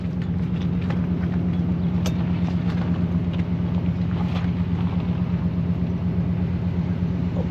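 A Harley-Davidson Panhead motorcycle engine runs at a steady, loud, low rumble close by, with an even throb and no pauses, on a cold ride.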